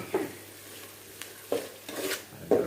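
Apple snails are stir-fried with curry paste in a pan: a few scraping spatula strokes and clatters over a soft, low sizzle, close by and uneven in rhythm.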